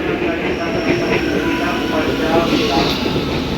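Jakarta electric commuter train at night, a loud steady rumble of wheels and motors with faint squealing rail noise, heard up close from a platform or carriage for a few seconds.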